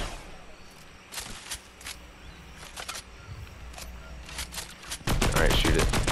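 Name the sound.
gunfire in a jet pack video game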